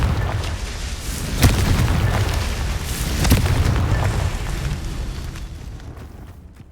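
Confringo spell blasts in the Hogwarts Legacy video game, two sharp booming explosions with rumbling tails over a steady low game soundscape.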